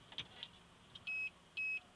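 A Snap-on MT-2500 diagnostic scanner gives two short, identical electronic beeps in quick succession on powering up, clear but not loud, after a few faint clicks in a quiet room.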